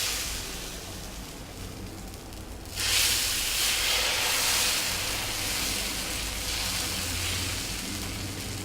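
Corn dosai batter mixed with big onion and curry leaves hits a hot pan and bursts into a loud, steady sizzle about three seconds in, hissing on without break to the end after a quiet low hum.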